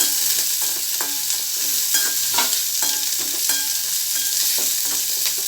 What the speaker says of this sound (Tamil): சாம்பார் வெங்காயம் இந்த வெங்காயம் ரெண்டும் சேர்த்து செய்யும்போது நம்மளுக்கு இனிப்பு இருக்காது